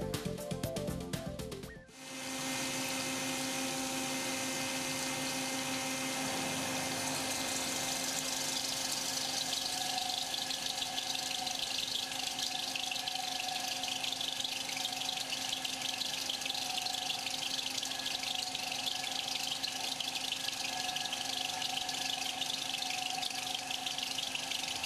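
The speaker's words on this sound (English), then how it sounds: "with no change to the cutting data using a super tight lock CTS milling chuck" A milling cutter held in a CTS Super Tight Lock milling chuck on a BT50 holder with a 32 mm bore cuts metal steadily, a loud continuous high whine and rushing tone that runs unbroken for the whole stretch without speech.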